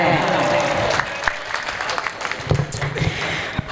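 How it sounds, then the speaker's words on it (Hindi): A crowd applauds at an Urdu poetry mushaira in Delhi, with a voice prominent at first, then scattered claps and a broader rattle of applause that swells and dips. "मैं चाहता हूँ कि एक बार जोरदार तालियां आप सब बजा दें।"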